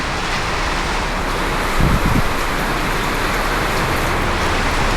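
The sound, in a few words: heavy rain heard from inside a car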